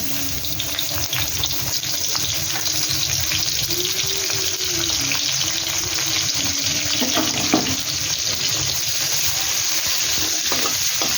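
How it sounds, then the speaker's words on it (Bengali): Chopped onions frying in oil in a pan, a steady loud sizzle with occasional stirring scrapes, running continuously throughout with a faint tone drifting in the background. "পেঁয়াজটাকে ফ্রাই করে নেব"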